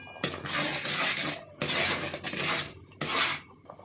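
A spoon scrapes and clinks around a metal pot of jackfruit payasam in three close stirring strokes, each a rough, bright scrape with short pauses between.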